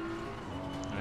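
BMW M4 GT3 racing car in Assetto Corsa Competizione drifting, with a loud, steady engine drone and sustained tire noise across a short moment.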